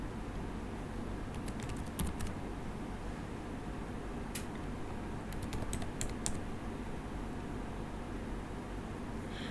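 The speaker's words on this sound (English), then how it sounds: "Now I will enter the admin username and also the admin password" Quiet, light keystrokes on a computer keyboard as an admin username and password are entered at a system login page, arriving in short bursts with pauses over a faint steady background hiss.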